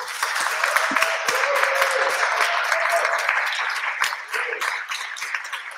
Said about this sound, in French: On peut l'applaudir aussi, je pense.